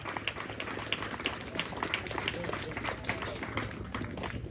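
A large audience clapping at a parish golden jubilee celebration in Badmal: dense, steady applause that fills the whole stretch, with a voice speaking over it.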